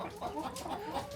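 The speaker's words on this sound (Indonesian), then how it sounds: "seperti itulah ayam buras kokok panjang" A long-crowing buras chicken at a rooster breeding farm lets out a close, loud cluck-and-crow call, its voice rising and falling in a few quick pulses with no talk over it.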